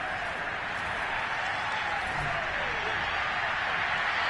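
Crowd applause at an American football game, a broad, steady wash of clapping and cheering from a large stadium crowd, with a commentator's voice faintly beneath it.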